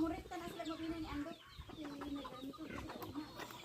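A chicken inside a woven bag clucks in short, muffled bursts close by, with people chatting and moving around it.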